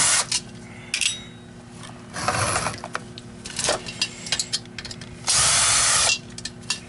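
A power drill backs screws out of a Filter Queen M360 vacuum housing, giving several loud, close bursts of whirring and ratcheting separated by short pauses.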